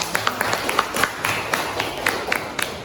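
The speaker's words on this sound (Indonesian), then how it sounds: "Tepuk tangan untuk kelompok kita." A classroom group of student teachers in a mathematics session gets scattered, light clapping, irregular and fairly close, with some chatter in the background.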